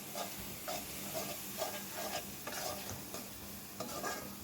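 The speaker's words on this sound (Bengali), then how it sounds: "এখন ভালোভাবে আবারও মশলাগুলো আমি কষিয়ে নিচ্ছি।" Turmeric, spice powder and salt sizzle in a pan under a continuous hiss, with regular scraping stirs about every half second, close and even, no voices.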